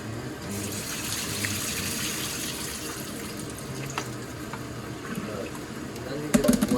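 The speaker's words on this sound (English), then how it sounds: "how do you separate the water from the veggie? Just pour it." Water pours from a pot of vegetables through a yellow filter, a steady rushing gush that runs throughout and ends in a few sharper splashes and clatters, with faint voices in the background.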